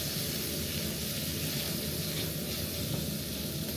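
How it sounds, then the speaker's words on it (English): Bacon frying in a pan gives off a soft, steady sizzle and hiss close by, faint and continuous with no voices over it. "Bacon is frying nicely."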